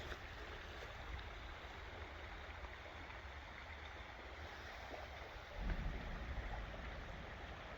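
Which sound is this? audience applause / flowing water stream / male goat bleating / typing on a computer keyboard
flowing water stream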